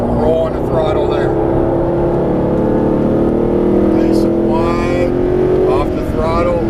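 A Mercedes SLS AMG engine pulls hard under throttle on a track, a loud steady droning roar with rising pitch as it accelerates, while a voice talks over it.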